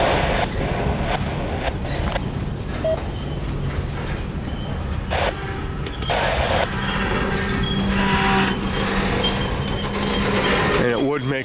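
CSX freight train 453, hauled by locomotives 4547 and 5391, slows to a stop for a crew change at a rail yard, with a steady low rumble, intermittent hissing bursts and a brief tone under ongoing talk.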